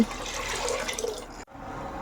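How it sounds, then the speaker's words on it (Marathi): Water pours steadily into a pot for cooking khichdi, a full, splashing rush, then stops abruptly, leaving a quieter bubbling trickle. "इथे मी दोन तांबे पाणी घातलं आहे"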